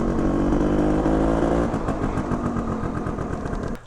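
The engine of a Honda Cub EZ90 mini bike runs close and loud, a steady throaty drone that dips slightly and settles into a lumpy idle.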